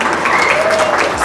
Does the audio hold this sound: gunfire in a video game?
no